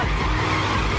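A car speeds off with its tires skidding and squealing, a loud, continuous screech layered over engine roar from close by, lasting about a second.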